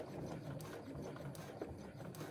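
A sewing machine stitching through bulky pouch layers with a tape-secured connector, a faint, rapid mechanical whirring rattle running steadily throughout the short stretch.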